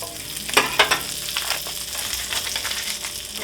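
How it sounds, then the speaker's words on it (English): Salted butter, one to two tablespoons, hits a preheated cast iron skillet and sizzles loudly, with a few sharp crackling spits early on settling into a steady frying hiss, close and alone without voices. "I'm going to add about 1 to 2 tablespoons of butter"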